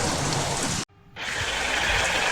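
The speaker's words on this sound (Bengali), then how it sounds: "ঝড়, বৃষ্টি, দমকা হাওয়া, গুরু গম্ভীর মেঘের গর্জন সব মিলে পুরো পরিবেশটা ভয়ঙ্কর হয়ে উঠল" Steady, dense rain hiss fills the air, broken by a brief sudden dropout before the downpour returns just as heavy.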